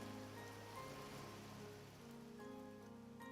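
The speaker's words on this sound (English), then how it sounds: "why do I hear the rain right there so intensely?" Steady, close rain in the Vintage Story survival game, falling near a chimney during iron-age building, a dense continuous patter with a low hum beneath it.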